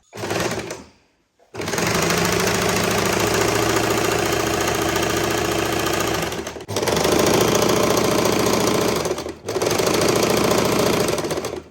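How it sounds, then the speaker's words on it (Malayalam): Sewing machine stitching palazzo pants runs in loud, rapid mechanical bursts, a long run, a brief pause, then two more runs separated by short gaps, close up with no talk. "ഞാനിവിടെ രണ്ടടിപ്പടിക്കുന്നുണ്ട്"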